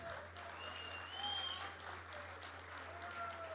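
Audience applause at a poetry recital event, a steady wash of clapping from a crowd, fairly soft and distant, with a few whistles or cheers rising briefly in the middle.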